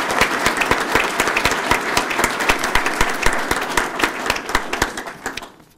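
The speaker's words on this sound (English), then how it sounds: "Let's give him an applause for that" Audience applause at a police department promotional ceremony, loud and close, with many distinct sharp claps in a brisk, uneven rhythm that tapers off at the end.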